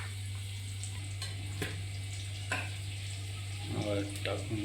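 Curry leaves frying in a pan with onion while preparing a village-style eel (vaam) dish, giving a steady crackling sizzle over a constant low hum, with a few sharper spatters and stirring clinks.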